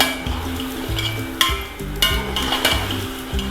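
Whole spices, chillies, kalonji and fenugreek seeds being stirred and fried in a pan for chicken biryani, with steady sizzling and repeated scraping strokes of a spoon against the pan, close and continuous with no talking.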